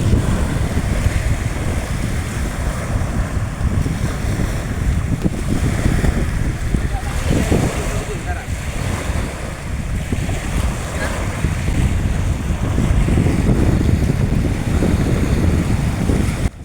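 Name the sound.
sea beach with waves and wind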